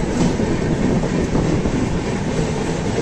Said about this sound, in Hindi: India's most powerful वैक 12 locomotive